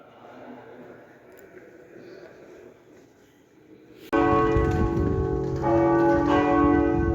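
Church bells of the former Catholic, now Protestant church of St. John the Baptist in Gouda, Netherlands, ring out loudly and suddenly after a quiet outdoor ambience, a dense sustained peal of overlapping tones continuing to the end.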